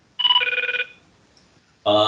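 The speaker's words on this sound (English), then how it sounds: "Sounds like somebody has a telephone dialing in the background." A telephone rings in the background on a call, a trilling electronic burst that stops, pauses and starts again.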